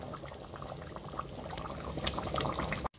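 Oxtail in peanut sauce simmering in a pot: a dense bubbling and popping that stays close and fairly loud, then cuts off abruptly near the end, with no talking.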